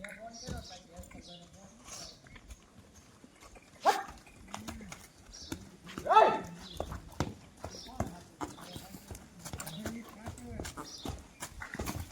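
A Kathiyawadi horse being made to jump in a village, its hooves clopping in uneven bursts outdoors while people talk and a dog barks nearby.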